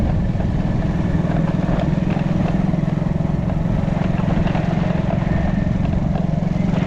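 A motorcycle engine runs steadily and fairly loud on a city street in Rangpur, a continuous low rumble with a busy chattering texture and no break.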